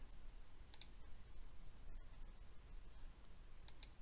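A computer mouse clicks a few times, faint and close, in short isolated pairs against a quiet hiss, with no talking.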